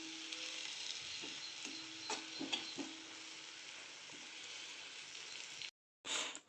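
A spoon scrapes and stirs gram flour into sizzling onion bharad bhaji, several soft knocks over a low steady fry, then a brief silence and a last burst.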